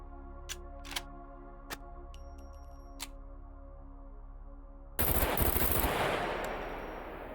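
Rifle fire in the video game SCUM: four or five sharp, separate gunshots crack at irregular intervals over a low hum, then a sudden loud burst of dense noise takes over and slowly fades.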